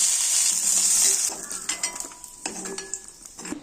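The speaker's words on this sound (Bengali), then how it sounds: "আর একদিকে আমি এই কিশমিশ আর এই কাজুগুলোকে ঘি দিয়ে ভেজে নিব" Raisins and cashews sizzle in hot ghee, a loud steady fry that fades as a spoon stirs through the pan with scraping and light metallic clinks.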